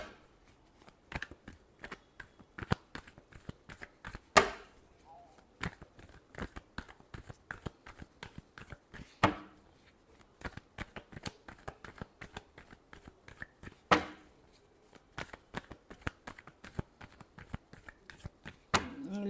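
Tarot cards shuffled by hand in a steady run of quick, crisp riffling clicks and snaps, close and fairly quiet, with a few louder flicks scattered through and no talking.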